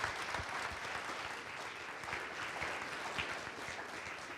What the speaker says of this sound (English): Please help me in giving them a round of applause.